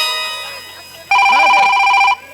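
A telephone rings loudly and close by for about a second with a bright, sustained electronic tone, preceded by quieter background sound on a comedy stage play.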